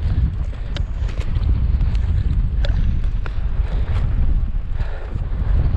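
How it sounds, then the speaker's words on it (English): Strong, steady wind on an Atlantic cliff top buffets the microphone in a continuous roaring rush, with gusts rising and falling throughout. "it's windy up here."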